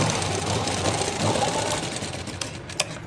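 A sewing machine running steadily as it stitches the second piece of a blouse, a fast even whirring chatter close by with a small tap near the end.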